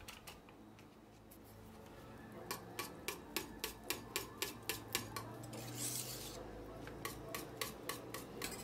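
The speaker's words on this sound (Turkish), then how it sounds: "Bir paket vanilyayı ilave ederek karıştırıyorum." Cooked pudding with vanilla added being stirred in a pot, heard as a quiet run of regular rhythmic scrapes of a utensil against the pot, each stroke sharp and brief, over a faint low hum.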